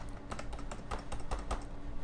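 Steady close-up typing on a computer keyboard, a run of rapid even keystrokes clicking one after another over a noisy background, with no voices.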